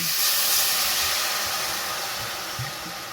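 White wine poured into a hot pan with tomato puree to deglaze it, a loud steady steaming hiss that slowly fades, close up with no talk.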